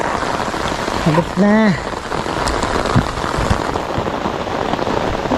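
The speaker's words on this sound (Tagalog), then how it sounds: "Umulan na, umulan." Steady rain pours down during an airgun fishing outing, a dense continuous hiss of drops striking surfaces throughout, while someone talks briefly over the downpour.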